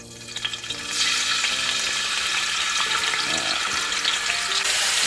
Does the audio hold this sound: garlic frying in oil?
yes